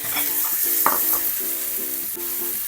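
Onions sautéing in a pan for a three-cheese spinach dip, a steady close sizzle with faint stirring scrapes and short tonal clinks, no talking.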